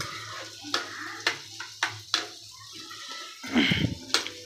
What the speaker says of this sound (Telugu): రొయ్యలు ఫ్రై కొట్టేద్దాం.